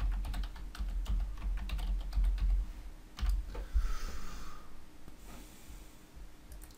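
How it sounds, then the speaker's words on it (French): Steady, close typing on a computer keyboard while logging into a site, with rapid key clicks in uneven bursts and a few louder taps, alone without talk. "je vais taper le bon point"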